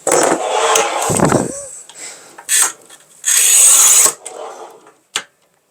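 Ceramic tile scored on a manual tile cutter, a Kaufmann TopLine 630 or SIGMA 62 NEX, giving repeated loud rasping strokes with a sharp crack near the end; brief talk between passes.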